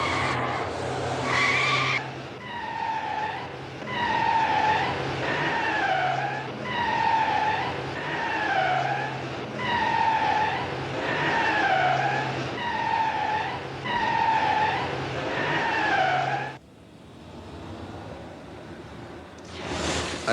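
A 1970 Simca 1301 weaving at 125 km/h, with loud repeated tire squeals rising and falling in a steady rhythm over engine and road noise, then easing off near the end.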